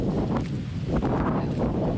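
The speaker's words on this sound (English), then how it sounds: "Morning winds gust up to 30 miles an hour." Gusty morning wind at an outdoor weather balloon launch in the dark, with gusts up to 30 miles an hour, roars steadily and close against the microphone, rising and falling in broad rushes with no voices.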